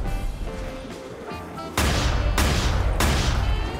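Gunfire in a Call of Duty Zombies game mixed with tower defense: a few sharp, heavy booming shots at a steady rhythm, loud and close over a game soundscape.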